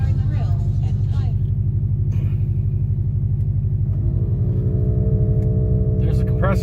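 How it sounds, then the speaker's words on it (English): An Airlift air suspension compressor, hard-mounted in the trunk of a Subaru WRX STI, kicks on partway through as a steady mechanical whine over a loud, continuous low rumble of the car. "There's the compressor going."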